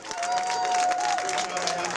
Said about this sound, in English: let's give a really nice round of applause to Trainwreck, making it to the finals